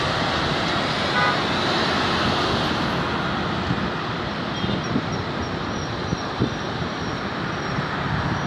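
Dense traffic jam on Jl Soekarno Hatta in Palembang, South Sumatra: a steady, loud broadband roar of idling and creeping vehicles, with a faint horn toot partway through and no talking.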